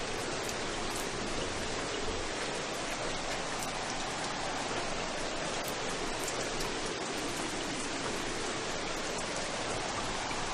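Heavy, continuous rain pours down steadily with a dense, unbroken hiss at close range, loud and even throughout with no voices over it.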